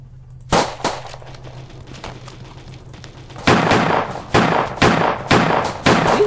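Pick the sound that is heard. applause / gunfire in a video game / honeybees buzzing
gunfire in a video game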